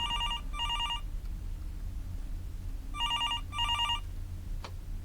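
A telephone rings in a horror video game set at 3 a.m., two short trilling bursts, a pause, then two more, fairly clear over a low rumbling background, with a faint click near the end.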